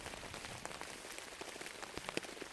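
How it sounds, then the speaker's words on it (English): Steady patter of rain drumming on a tent in a winter forest, dense and continuous with occasional sharper drops standing out, no voices. "it's raining"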